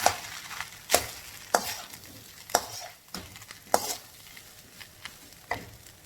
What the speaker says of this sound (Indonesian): Udah gitu kita tumis